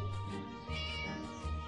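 A cat meows inside a video game, a few drawn-out, close, fairly loud cries following one another with no talking over them.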